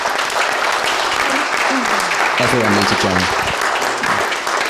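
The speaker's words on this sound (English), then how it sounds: "could we have a round of applause for Johnny" Live podcast audience at a folk hall event for World Suicide Prevention Day bursting into sustained, dense applause, loud and close, while a voice speaks briefly over the clapping.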